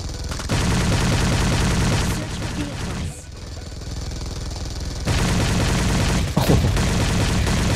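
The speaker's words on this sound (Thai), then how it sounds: "จัดการก่อนเลยด้วยสกิลยิงระเบิด" Dense, rapid gunfire with explosive bursts from an explosive-shot skill in PUBG Mobile zombie mode, loud and continuous, briefly dipping midway before the barrage resumes.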